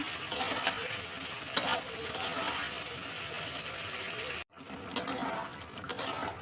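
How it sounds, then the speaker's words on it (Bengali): Potatoes with tomato and green chilli sautéing in a pan produce a close, steady sizzle with spatula stirring and scraping, broken by a brief cut-out near the end. "দেওয়ার পরে আবার কিছুক্ষণ কষাবো"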